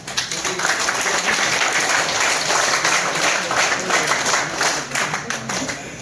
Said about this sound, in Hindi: वापस से ताली भी बजा लीजिए आप लोग